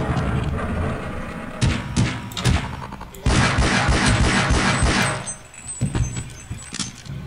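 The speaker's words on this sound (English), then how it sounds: "Well, he starts shooting at me." Bursts of gunfire in the Half-Life mod Prison, with sharp shots in clusters and a dense sustained volley in the middle, loud and close, with game ambience between bursts.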